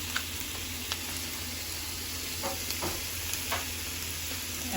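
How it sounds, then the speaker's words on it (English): Grated onions sizzle in a frying pan with about two to three tablespoons of vegetable oil: a soft, steady hiss close by, broken by scattered light pops and stirring clicks, with no talking. "take your grated onions and add it to a frying pan of about 2 to 3 tablespoons of vegetable oil"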